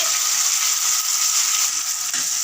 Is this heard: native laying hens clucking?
no